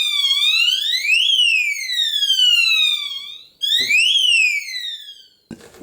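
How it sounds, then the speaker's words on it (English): A wine bottle fitted with a homemade RF transmitter and receiver security alarm sets off a loud electronic siren that sweeps up and down in repeated wails, cuts out briefly, then starts again before a faint clatter. "So we have now put kind of a security on this bottle of wine, the alarm triggers."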